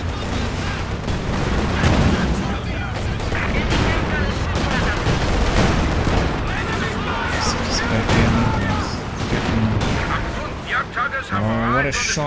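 Gunfire from a Pioneer unit in a real-time strategy video game match: dense bursts of shots and booms over a constant battle din, with a commentator talking throughout.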